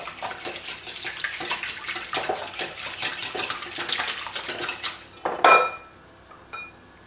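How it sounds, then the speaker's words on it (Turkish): Two eggs beaten with a wire whisk in a bowl for a savoury zucchini and cheese cake: rapid, rhythmic metallic ticking that ends in a louder clatter, then quiet. "bir çırpma teliyle güzelce çırpıyorum"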